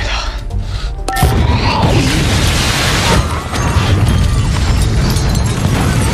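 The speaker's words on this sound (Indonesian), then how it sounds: "langsung terjadi ledakan yang dahsyat yang memporak-porandakan bangunan tersebut dan bangunan di sekitarnya" A sudden massive explosion in a film bursts in after a quiet moment, destroying a building and those around it, followed by a sustained loud roar and rumbling debris that fills the rest of the clip.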